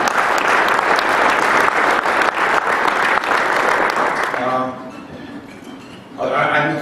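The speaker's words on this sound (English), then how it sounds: "There was a round, loud appreciation, a lot of applause" Loud, dense audience applause for presenters at an investment conference in Las Vegas, steady for about four seconds before thinning out as a voice begins speaking, then swelling briefly again at the end.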